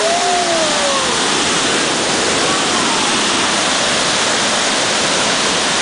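Roaring waterfall in Khao Yai National Park, Thailand, a heavy torrent throwing thick mist, heard as a loud, steady broadband rush close by with no pauses.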